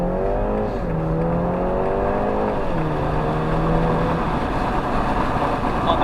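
A police car being driven hard on a track accelerates out of a corner, its engine note climbing in steady rising sweeps as the revs build. It sounds close and continuous, with no talking.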